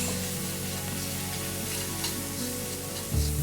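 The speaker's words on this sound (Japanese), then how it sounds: "ここに小麦粉入れます。 2、3分炒めます。" Flour being stir-fried in a pan for a soup, a steady soft sizzle and faint scraping of stirring throughout, close up with no talking, ending in a brief heavier thump.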